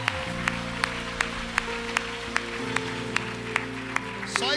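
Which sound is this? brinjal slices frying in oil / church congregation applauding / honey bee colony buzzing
church congregation applauding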